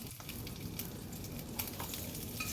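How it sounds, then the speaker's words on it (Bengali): Fish pieces fry in oil with a soft, even hiss and crackle that carries on steadily, quiet and close, with no one speaking. "একইভাবে আমি মাছের আরেকটা পিসও ভেজে নেব"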